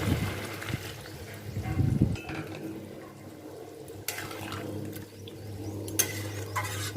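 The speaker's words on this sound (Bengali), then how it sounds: "দিয়ে দিলাম এক বাটি জল" A bowl of water is poured into a bottle gourd and rui fish curry, a brief splashing gush near the start, then low bubbling and faint kitchen clatter with a few sharp clinks.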